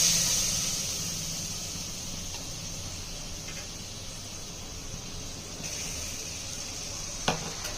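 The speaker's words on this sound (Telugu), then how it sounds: "ఫస్ట్ మనం ఈ బటర్ తీసుకొని ఇందులో వేసుకుంటాం." Butter melts in a pan, giving a soft, steady sizzle that holds evenly throughout, with a single small clink near the end.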